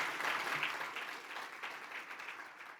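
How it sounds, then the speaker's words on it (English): Faint, steady applause from a banquet audience at an annual awards dinner, a brief burst of many hands clapping in a large room that slowly thins out. "Yes, that's worth a round of applause."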